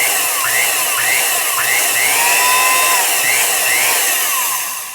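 A 1950s Milwaukee S-114 quarter-inch heavy-duty drill with an old universal motor runs steadily at single speed, giving a loud, close, high whine. Its pitch rises and dips several times as the trigger is throttled.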